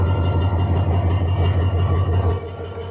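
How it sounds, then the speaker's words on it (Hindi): A GMU-30 American diesel locomotive idles at a quiet railway station on a chord line, its loud, steady low engine drone throbbing evenly before easing off slightly near the end. "GMU-30 अमेरिकन लोकोमोटिव की आइडियल साउंड सुनाता हूँ"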